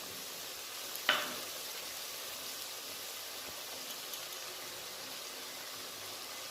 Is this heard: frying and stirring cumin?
yes